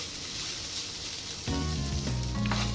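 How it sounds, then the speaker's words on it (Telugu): Seasoned rice tossed with salt, chili powder and turmeric sizzles steadily in a pan, a soft frying hiss that grows fuller and louder partway through, with no voices. "2 మినిట్స్ వేయించుకుని అన్నాన్ని స్టవ్ ఆఫ్ చేసుకుంటే సరిపోతుందండి."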